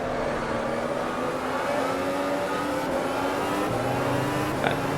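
A 2017 Formula 1 car engine in the Automobilista racing game at Interlagos screams steadily, with the pitch sliding through gear changes and a brief downshift near the end, loud and close throughout, with no talking.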